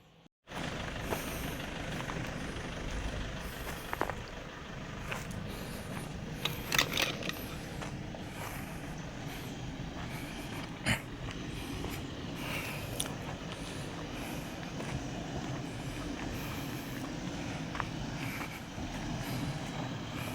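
A Toyota Fortuner off-road SUV's engine revs and strains while climbing a steep slope at Khao Krachom, a continuous loud roar with a few brief knocks and clanks, and no talk.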